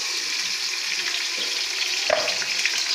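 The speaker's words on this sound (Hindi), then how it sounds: "अभी देखें मैं प्याज ब्राउन कर रहा हूँ" Onions browning in a pan with ginger garlic paste give a steady, even hiss of frying that stays close and fairly loud, with a faint clink partway through and no talking.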